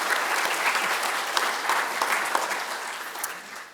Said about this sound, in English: Yes, clap. That's your cue.